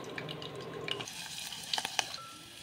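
Green chillies sizzle and are stirred in hot oil spiced with shahjeera, cloves and cardamom for Hyderabadi kaddu dalcha, a steady close frying hiss with a few metallic clinks of the spoon against the pan.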